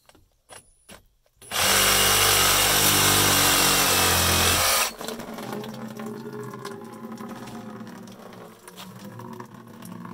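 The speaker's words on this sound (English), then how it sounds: "you see I have a reciprocating saw, and it's a real fine tooth. It's a metal blade." Reciprocating saw fitted with a fine-tooth metal blade of about 18 teeth per inch cuts through copper water pipe at an angle. A steady, loud, close buzzing runs for about three seconds and then drops to a lower rattling hum after a few faint clicks.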